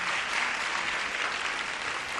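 An audience at the Génie en Herbe Côte d'Ivoire 2016 quiz final applauds the production team, a steady, even wash of many hands clapping at moderate distance with no voices over it.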